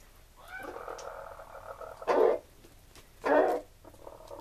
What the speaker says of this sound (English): They're alarm calling because there is a crow flying over.